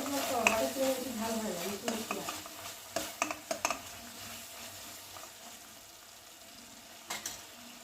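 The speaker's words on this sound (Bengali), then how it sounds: "এবারে মশলাটাকে ভালো করে কষিয়ে নেব।" Spice masala with tomato puree being sautéed and stirred in a pan: a soft, quiet sizzle under clusters of light spoon-against-pan clinks and scrapes, with a faint voice in the background.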